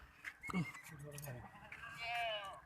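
Castrated goat with two teeth bleating at close range amid other livestock, with a wavering bleat near the end; people talk over the animal sounds.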